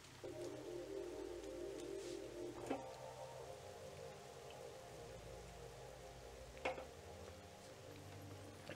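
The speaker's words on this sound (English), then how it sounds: "When did it start raining?" Rain falls steadily in the video game The Legend of Zelda: Twilight Princess, a soft constant patter with a low ambient hum and a couple of brief sharp clicks.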